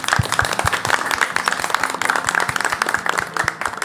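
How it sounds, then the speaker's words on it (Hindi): During a carols reality show, the audience claps for a group's performance, a loose ragged applause with a low rhythmic pulse beneath it, fairly loud and without speech on top. "जोरदार तालियां आप लोगों के लिए, अपने लिए बजा लो।"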